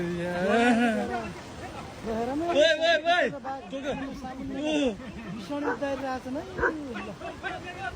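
Several short, sharp barks in quick bursts from a dog facing a tiger in Bajura, Nepal, mixed with growly animal snarls and chattering voices close by.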